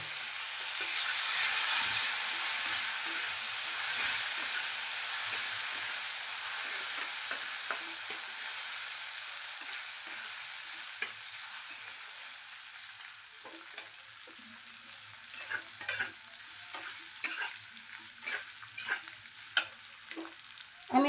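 Gobindobhog rice fries in oil in a pan while being stirred. A continuous bright sizzle is loudest at the start and eases slightly, broken by frequent scraping and clinking stir strokes, close up and without speech.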